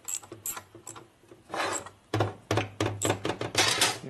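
A ratchet wrench loosens engine case bolts on a 1977 Sportster Ironhead 1000cc street tracker during a motor rebuild, giving close, rhythmic bursts of metallic clicking with short pauses between strokes.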